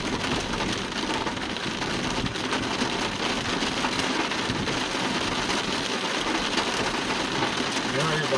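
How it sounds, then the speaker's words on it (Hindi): Steady, heavy rain falls in Taobat, a dense unbroken hiss with no pauses throughout. "और बड़ी ठीक ठाक बारिश हो रही है।"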